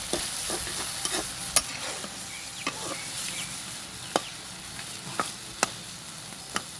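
Broiler chicken sautéing with ginger, garlic and cumin paste gives a steady dense sizzle, punctuated by occasional sharp clicks and scrapes of a spatula stirring the pan.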